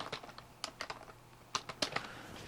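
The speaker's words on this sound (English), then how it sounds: "Click here on the library and type here DHT sensor." Quick clattering keystrokes on a computer keyboard while searching for a DHT sensor library, irregular bursts of close, quiet clicks with brief pauses between them.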